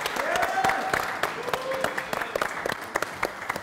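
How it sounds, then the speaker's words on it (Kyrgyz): Studio audience on a Kyrgyz TV family game show applauding, a dense wash of clapping that swells early then thins into scattered claps, with a host's voice and music running underneath. "Кол чаап коюңуздар."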